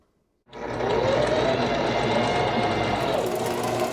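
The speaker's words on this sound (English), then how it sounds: "The sound of a working sewing machine is like music to the ears of these youngsters" A sewing machine starts up after a brief silence and runs steadily with a loud, continuous mechanical whir.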